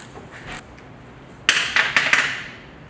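A socket ratchet breaks loose the flange bolt on a CWF630HF chain saw, heard as a few sharp metallic clicks and snaps packed into about a second, close and clear after a quiet lead-in.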